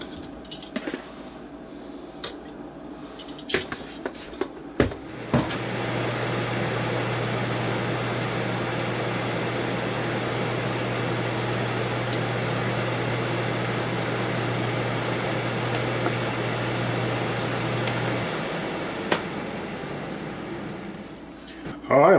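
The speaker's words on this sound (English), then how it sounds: "Alright, let's put that back in the fryer." A Ninja Foodi air fryer cooking BBQ chicken hums steadily with a low, constant drone and fan whoosh for a long stretch after some clicks and handling bumps. It ends with a click.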